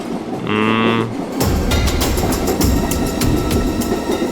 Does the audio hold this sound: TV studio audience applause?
no